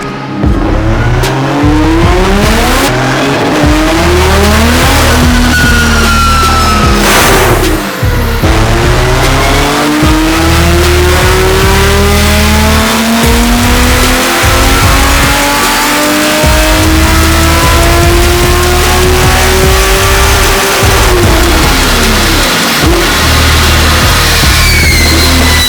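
A Toyota GT86 with a titanium exhaust revving hard on a dyno, a loud, sustained engine roar with rising and falling pitch sweeps through the gears, a brief dip midway, then continuous high-rev howling without talk.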